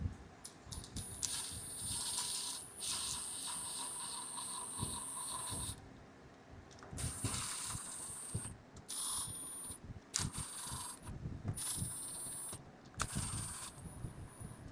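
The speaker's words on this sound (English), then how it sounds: "to make this quicker, I'm going to use the impact wrench" Bursts of mechanical clatter and whirring from an impact wrench running bolts onto a B18 engine, with short runs separated by pauses, close and fairly loud with no talking.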